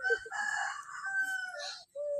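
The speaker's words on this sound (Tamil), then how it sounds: "அங்கே பாருங்க சேவல் விட்டாங்க." A rooster crows loudly and close by, a single drawn-out call with a brief pause near the end before another call begins.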